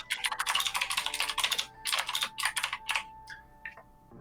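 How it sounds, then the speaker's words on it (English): Loud, rapid typing clatters on a computer keyboard during a podcast recording, coming in close bursts of keystrokes with short pauses and slowing to a few scattered taps at the end. "the typing is really loud"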